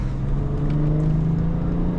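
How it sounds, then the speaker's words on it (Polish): The 3.0-litre diesel engine of a 2008 BMW X5 3.0d E70 revs in sport mode, a loud, continuous low drone that climbs slightly in pitch, heard up close from inside the vehicle. "w trybie sportowym, no to tutaj kręci ta skrzynia silnik, pozwala kręcić ten silnik do wyższych prędkości"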